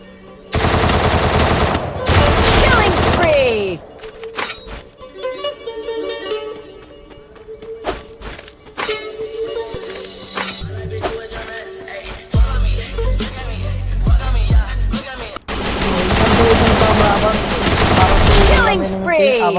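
Loud bursts of automatic gunfire from the Free Fire mobile battle game, rapid sustained volleys at the start and end with scattered shots and game effects in between.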